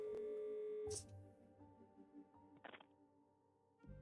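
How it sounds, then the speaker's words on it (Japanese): Telephone keypad dialing in the Murder on the Orient Express video game: a held tone, then a few short electronic beeps separated by quiet gaps. "電話。"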